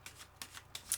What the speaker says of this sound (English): as I'm shuffling here